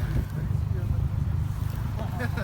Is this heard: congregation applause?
no